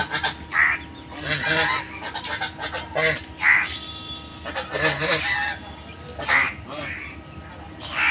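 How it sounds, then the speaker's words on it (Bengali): Geese honk repeatedly in loud, overlapping bursts from penned geese on muddy ground, with quieter clucking and fowl calls scattered between them nearby. "রাজহাঁস এখন বন্দি কারা করে।"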